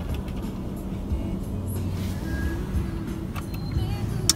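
A Toyota C-HR car gives a steady low engine and road hum with occasional faint clicks and knocks, and voices are heard faintly alongside it.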